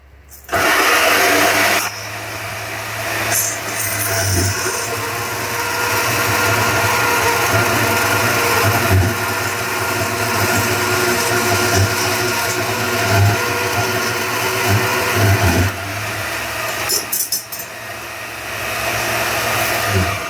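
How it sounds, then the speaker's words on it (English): A bandsaw in a knifemaking shop starts up and runs with a loud, steady whirring whine that holds for the whole stretch, dipping briefly near the end, with no voices. "let me fire this bandsaw"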